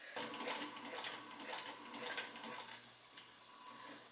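A sewing machine stitches an invisible zipper, its quiet, steady mechanical whir running low in the background with a faint click partway through.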